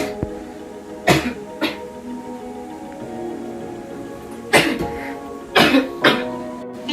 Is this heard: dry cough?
yes